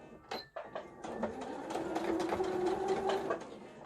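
A sewing machine stitches fabric for a filter-replaceable face mask, its rapid mechanical needle chatter running steadily for a few seconds at close range with no talking.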